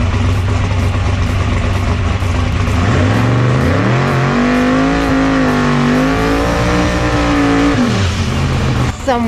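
A drag race car at Immokalee Raceway idles, then revs hard through a gear shift, its engine pitch climbing, holding and dropping again, loud and close, with a sharp burst near the end.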